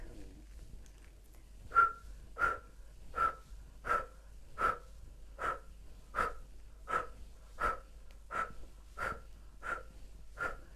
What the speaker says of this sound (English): The mouth is in the O shape, and you're breathing in and out.